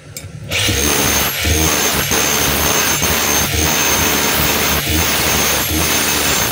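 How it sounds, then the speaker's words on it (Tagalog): A DeWalt D25133 rotary hammer runs in chipping hammer mode, a loud continuous motor whine with a rapid percussive chatter, close up and alone, with brief rhythmic dips in intensity. "Yan po yung hammer. Chipping hammer. Chipping niya."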